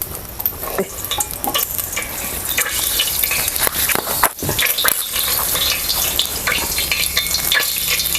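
Garlic hits hot oil in a pan for chicken sukka with a loud, steady sizzle and frying hiss, broken by spoon-stirring scrapes and a brief dip near the middle.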